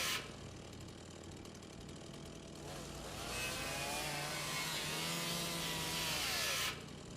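Wood being sawn in the survival game 30 Days on Ship, a steady harsh rasping that grows louder and brighter midway, with a low engine-like drone beneath and no talking.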